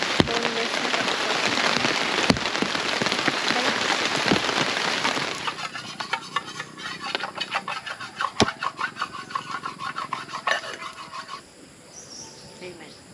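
Steady rain patters loudly on surfaces at a motorcycle campsite, easing into sparser, irregular drips and taps as it tapers off, with a rooster crowing and voices faint in the background.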